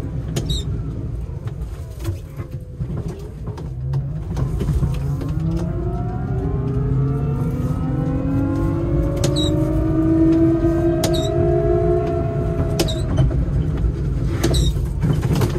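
A Chinese-made electric car pulls away, its motor whine rising in a smooth, climbing tone over steady road and tyre rumble, fairly loud and close throughout with no talking.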